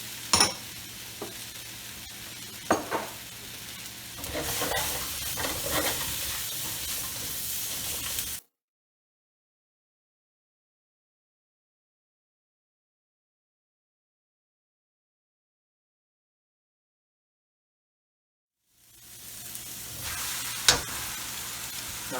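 Fresh shiitake mushrooms and carrots stir-fry in a pan with a bright close sizzle and scraping stirs, broken by a long silent gap before the frying picks up again.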